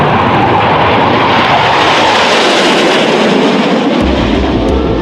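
A loud, sustained roar of a Soviet jet fighter engine with afterburner, dense and rushing, with a deep rumble swelling near the end.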